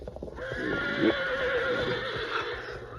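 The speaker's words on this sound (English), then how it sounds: "the horses, smelling smoke and seeing the wall of flame creeping toward them, began to fuss and fret" Horses neigh and whinny in alarm as a wildfire creeps toward them, a loud shrill whinny near the middle over a busy backdrop of crackling, hooves and stirring animals, with no talk.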